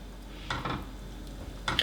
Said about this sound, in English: we need to stir it because we don't want it to get stuck to the bottom of the pan